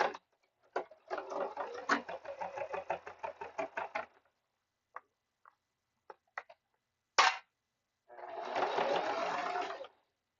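A sewing machine runs in two short bursts, a stuttering stop-start run near the start and a steady stretch near the end, separated by silence and a few isolated clicks and taps. Close and clear, with no talking.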